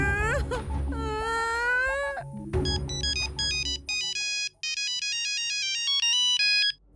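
A mobile phone rings out loud with a bright, stepped melodic ringtone for a missed call, its tones changing pitch in quick patterns with no talk over it.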